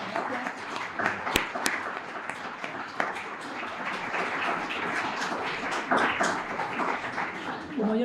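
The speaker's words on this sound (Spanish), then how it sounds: "lo que les pido es un aplauso enorme para Rodrigo." Audience applause following a conference talk on global economic transformation, a sustained wash of clapping across the whole stretch with some voices mixed in.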